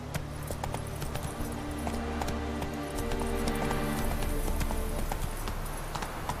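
Hooves of a horse in The Witcher 3 clip-clop in a quick galloping rhythm throughout, moderately loud, with a brief snort or whinny and game ambience underneath.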